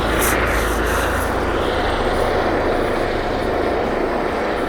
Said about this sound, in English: First helicopter has landed by Cwm Cottage.